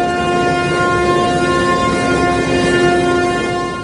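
A Norfolk Southern train in Pittsburgh sounds a loud, sustained horn chord that holds steady and close, over the rumble of the train on the rails.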